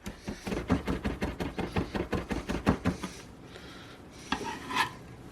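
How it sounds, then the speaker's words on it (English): A knife chops garlic cloves very finely on a cutting board for breaded baked eggplant, a quick steady run of close rhythmic taps that slows and scatters into a few softer knocks near the end. "I'm going to chop these up really fine, really fine"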